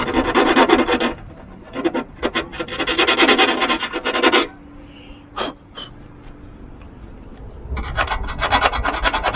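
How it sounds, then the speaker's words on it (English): A metal file rasps around the edges of holes drilled for a genuine Honda Jazz optional spoiler, in loud repeated strokes with a short pause and a few knocks before the strokes return. "I'm just going to go around it with a file, just to get rid of any sharp edges or burrs"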